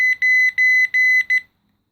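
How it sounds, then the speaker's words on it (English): An OKI CDL 700e telephone gives a loud, close, high-pitched electronic beep pattern, several short tones in quick succession with brief gaps, then falls silent. "Whole bunch of beeping, but nothing's happening."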